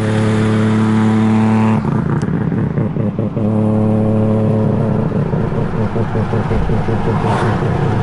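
A Mazda FD with a 20B rotary engine drives off, its loud, close exhaust note revving and rising in pitch, dropping with a gear change and climbing again with a buzzy, steady drone.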